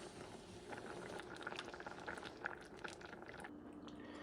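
Dominican habichuelas simmering in a pot, a soft continuous bubbling with small irregular pops and gurgles, quiet and close, no voices.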